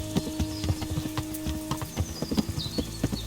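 Horse hooves clip-clop in a quick, even rhythm as a rider travels in a video game, a close, clear patter of wooden-sounding beats with no talk.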